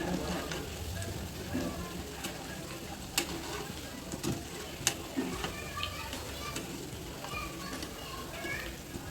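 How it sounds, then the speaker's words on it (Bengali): Cabbage pakoras fry in hot oil, a soft continuous sizzle with small crackles and pops, quiet and steady throughout. "এরকম করে আমি আস্তে আস্তে সবগুলো ভেজে নিব"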